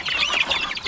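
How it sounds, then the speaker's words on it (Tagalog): A group of chicken chicks peep in rapid, high, overlapping chirps, close and continuous for under a second. "Sisiyo ng manok,"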